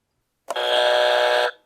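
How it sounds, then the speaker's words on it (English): A quiz-show buzzer sounds once, a single loud, harsh electronic blare lasting about a second that cuts off abruptly, alone against silence. "Buzzer?"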